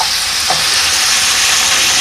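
Pointed gourd (potol) sizzles steadily as it fries in a pan, a continuous close hiss with no voices.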